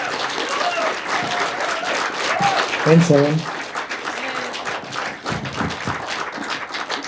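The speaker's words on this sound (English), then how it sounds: "let's give Siobhan and Mischa a good big round of applause" An audience gives a sustained round of applause for two filmmakers after a screening of their short films at a Q&A event, dense clapping filling the room while a voice speaks briefly over it.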